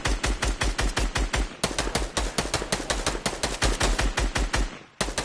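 Rapid, evenly spaced video-game gunshots ring out loud and close in a steady automatic burst that runs nearly five seconds, then stops abruptly before a final shot.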